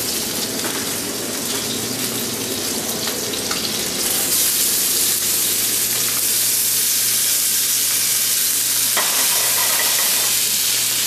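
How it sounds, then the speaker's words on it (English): Chicken breast sears in a hot pan and is shaken around, giving a loud, continuous sizzle close up that rises and stays strong throughout, with occasional clinks and no talking. "So now the pan's about ready to sear our chicken breast. And you can hear it sear."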